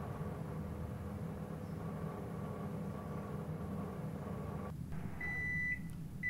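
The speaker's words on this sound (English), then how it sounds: "let's try out our new microwave" A new microwave oven runs with a burger inside, giving a steady low hum with a faint rattle, then short high beeps near the end as the cycle finishes; no voices.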